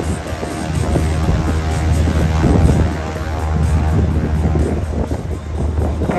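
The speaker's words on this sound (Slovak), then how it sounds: "hviezdicový motor Pratt & Whitney. To je ten nezamieniteľný zvuk." A Grumman G-164 Ag-Cat biplane with a Pratt & Whitney radial engine drones loudly and steadily with a rough engine rumble, buffeted by wind noise throughout, at an airshow.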